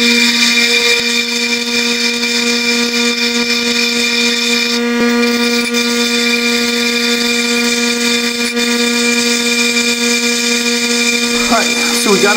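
An electric grinder strips chrome coating off steel sockets, whining at a steady high pitch with sustained tonal hum, loud and close, running continuously through the stretch with a brief shift near the end.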